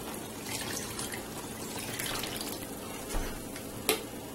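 Meat stock from boiling the meat is poured and drained into soup ingredients for ogbolo soup, a soft continuous liquid splash and trickle, close up, ending with a couple of small clunks.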